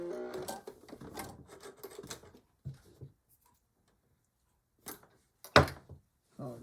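A sewing machine back stitches a seam on a beach or diaper bag in short stop-start runs, quick mechanical stitching bursts separated by pauses and a few sharp clacks, close by.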